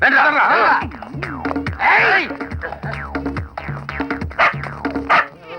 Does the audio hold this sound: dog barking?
yes